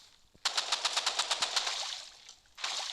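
Rapid burst of about ten gunshots fired in quick succession in the video game Rivals, loud and close, followed by a brief lull and another sustained crackle of fire.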